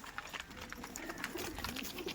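Giribaz pigeons cooing softly, a faint, low, continuous murmur of several birds close by, with no talk over it.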